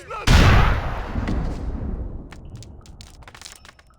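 Grenade explosion in Grand Theft Auto IV: a sudden loud blast with a booming decay, followed by scattered faint pops and crackles as it fades.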